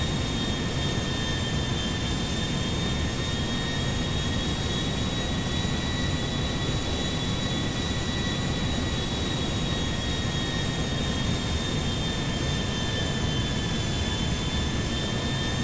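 A steady, loud drone of an airplane engine cruising in flight in GTA 5, a constant roar with a faint high whine running unchanged throughout.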